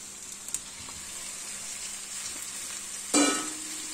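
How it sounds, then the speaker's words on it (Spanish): Minced meat is added to a pan of browned onion and garlic. A steady soft sizzle jumps to a sudden louder crackling hiss as the meat hits the hot oil, then settles back, with no voices. "añadimos la carne picada"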